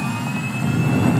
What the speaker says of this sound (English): An engine that powerful only takes the top-of-the-line jet fuel. It keeps those afterburners blazing.